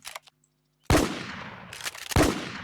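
Shotgun blasts in the online shooter Infestation, with two loud, close shots about a second apart, each followed by a short decaying tail, and no voices.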